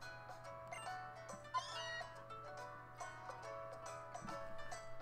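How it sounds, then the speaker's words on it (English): Meowth gives a short cat-like cry in the Pokemon Sun video game, a brief rising call over steady, tinkly background game music. "It's not like Meowth said anything. He just purred."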